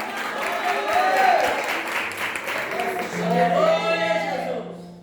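Church congregation at a worship service applauding, clapping that swells and fades twice while voices sing or call out over it.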